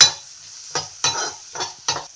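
Curry leaves and peppercorns sizzle in a hot pan for beetroot palya, with four or five distinct scraping stirs of a spoon breaking through the quiet frying.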